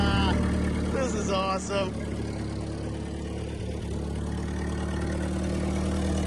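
An Allis-Chalmers FT 20 24 forklift engine idles with its throttle unhooked, a steady, close, mid-pitched running drone heard throughout while someone briefly speaks over it.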